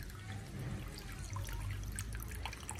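Clothes are washed by hand in water, with soft sloshing, trickling and dripping sounds at close range, fairly quiet and steady throughout.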